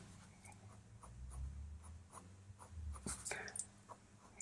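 2B drawing pencil tracing over the edge of a drawing, giving faint, close scratchy strokes in a soft, irregular rhythm against quiet room noise, with no talk.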